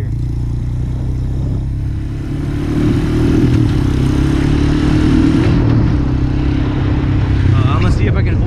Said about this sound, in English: you can hear how the engine needs to shift